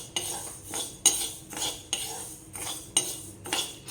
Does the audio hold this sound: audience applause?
no